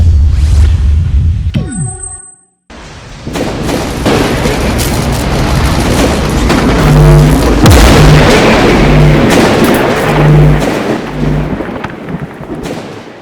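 A nuclear bomb explosion effect: an initial short burst, a brief gap of silence, then a loud sustained roaring rumble with deep booming low tones that rolls on for about ten seconds before easing off.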